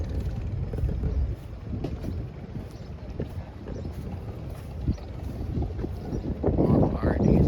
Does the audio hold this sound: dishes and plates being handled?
no